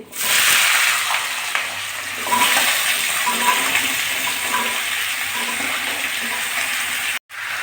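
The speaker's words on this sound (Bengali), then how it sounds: "আদা এতে ধুয়ে রাখা সবজিগুলো দিয়ে দিচ্ছি" Washed vegetables tipped into a curry pot with grated ginger set off a loud, steady sizzle and hiss that carries on for several seconds, ending with a brief clunk.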